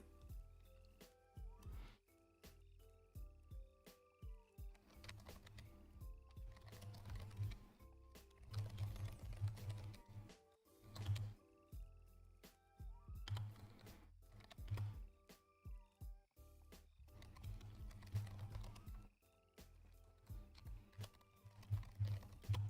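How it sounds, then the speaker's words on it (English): Rapid, clattery typing on a loud computer keyboard, keys tapping in quick bursts with brief pauses, close to the microphone. "Can you guys hear when I type a lot?"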